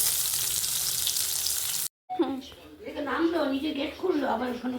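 Tomatoes drop into a hot pan and set off a loud, hissing sizzle that cuts off abruptly, followed by someone talking over quieter frying.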